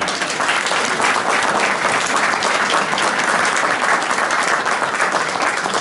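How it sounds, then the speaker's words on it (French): A magic show audience applauds a volunteer as he stands, giving loud, dense clapping that holds steady for several seconds without speech. "levez-vous, on l'applaudit, s'il vous plaît."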